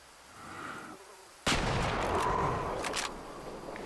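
A single sharp rifle shot cracks out loud in the hunting game Way of the Hunter, fired at roughly a hundred meters, followed by a rolling echo that trails off across open terrain.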